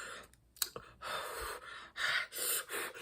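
A voice imitating nervous breathing, a man trying breathing techniques: a sharp gasp followed by several long, shaky exhales, close and fairly soft, with no words.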